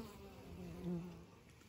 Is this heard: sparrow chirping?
no